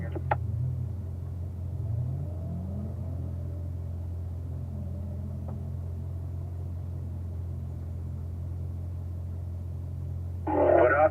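A Corvette rolls through a cone braking exercise on a driving course, heard as a steady low engine and road rumble from inside the car, with a brief louder burst right at the end.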